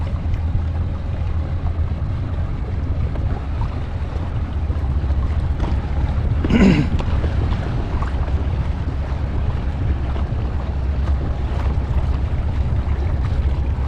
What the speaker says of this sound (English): A lot of boat traffic today.